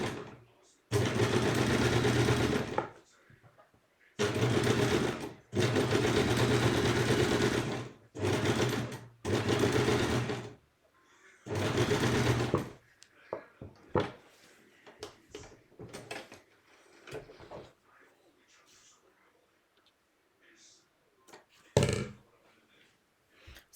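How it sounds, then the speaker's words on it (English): Sewing machine fitted with a quilting arm stitches parallel quilting lines, running in several loud, steady bursts of a few seconds each, separated by pauses with quieter handling clicks and rustles. "So all the time that I'm sewing down, I'm making sure that the quilting foot, the quilting arm is on the line that I've drawn previously"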